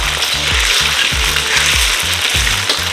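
Food stir-fried in a hot pan, a steady loud sizzle with rhythmic scraping strokes of the spatula repeating every half second or so.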